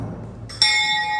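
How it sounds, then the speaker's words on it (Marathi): A temple bell is struck once at the Ravalnath Temple in North Goa, giving a bright metallic ring that sustains and slowly fades in a quiet setting. "घंटी वाजव"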